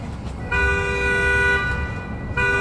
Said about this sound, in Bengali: আরে হর্ন দিতে বারণ করো